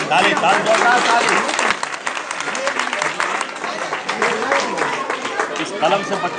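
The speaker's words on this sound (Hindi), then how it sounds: "ताली ताली" Crowd clapping at a gathering honoring a former JNU, JMI and AMU student leader, loud and uneven, with voices and babble mixed through the claps.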